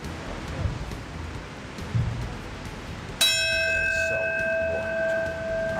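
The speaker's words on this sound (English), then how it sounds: "The tolling of the bells as the Ground Zero Memorial Observance gets underway in the Big Apple." A single bell tolls at a Ground Zero memorial observance in New York City, a clear ringing strike with a long sustained decay that follows quieter outdoor ambience.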